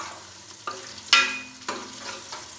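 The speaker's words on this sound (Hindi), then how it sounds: "प्याज को हम लाइट ब्राउन होने तक फ्राई कर लेंगे, तकरीबन 4 से 5 मिनट के लिए।" Finely chopped onions fry in oil inside a pressure cooker while being stirred, making a few close bursts of sizzling that swell and fade with each stir.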